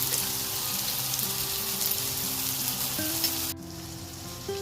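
Tomatoes cooking in a pan over a medium flame, a steady soft sizzle with faint low hum tones underneath, dropping noticeably quieter near the end, no voices.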